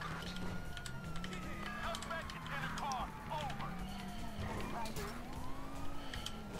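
Police sirens wail and sweep steadily throughout a GTA V car chase, with continuous game engine and traffic noise and someone talking over the top.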